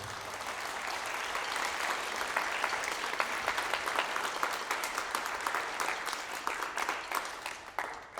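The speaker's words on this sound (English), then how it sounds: "could we just give them some love and a round of applause for this?" An auditorium audience at a Chemeketa Wind Ensemble and Concert Band performance applauds steadily, a thick wash of many hands clapping that stays level throughout and thins out slightly at the very end.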